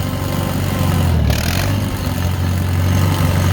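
A vehicle engine runs loud and close on rural hunting land in Gladwin, Michigan, holding a steady rumbling drone with a brief dip and change in pitch as it shifts into a higher gear, without speech.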